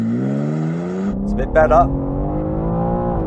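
A new BMW M3 launches hard and accelerates in a test against a Porsche 911 Carrera, its engine rising steadily in pitch through a gear change, loud and close, with someone talking briefly over it.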